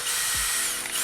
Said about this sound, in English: I'm gonna start kind of buttoning it down a couple screws at a time